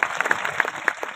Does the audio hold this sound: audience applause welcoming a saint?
yes